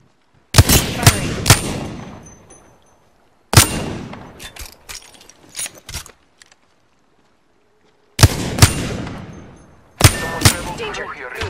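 Gunfire in the Apex Legends video game, with four loud bursts of rapid automatic shots, each trailing off into an echoing decay, separated by short quiet gaps.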